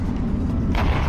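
A rocket explosion destroys a spaceship in the Endspace VR game, a short close boom that swells into a rumbling burst near the end.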